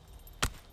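A single sharp chop of a blade cutting down a long stick in the game SCUM, one short close thud over quiet background.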